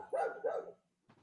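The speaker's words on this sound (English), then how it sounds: "we got dogs barking here" Dogs barking in the background during a quiet online class session, two quick barks close together followed by a fainter third after a short pause.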